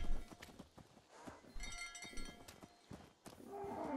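Cows walk through the Fallout 76 Free Range event, their hooves making soft, irregular clopping steps. The thuds are faint and spaced over a quiet, tonal game ambience.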